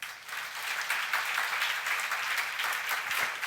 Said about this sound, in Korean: 믿는 사람은 박수 쳐봐요.